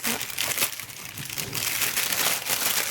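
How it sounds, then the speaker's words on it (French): Plastic packaging around a set of makeup brushes crinkles and crumples continuously as it is unwrapped close by, with no talking. "Je vais vous déballer"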